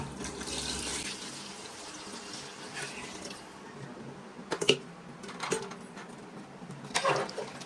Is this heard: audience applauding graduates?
no